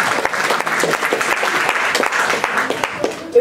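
A theatre festival audience breaks into sustained, dense applause, many hands clapping at once in a steady wash with no voices on top, filling the hall from start to finish.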